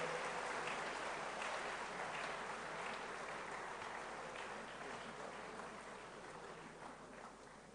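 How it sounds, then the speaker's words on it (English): Faint, sustained applause rolls through the hall at a professorial inaugural lecture for Professor Christian Agyare, a steady, distant clatter of many hands that slowly tapers. "A round of applause to Professor Christian Agyare"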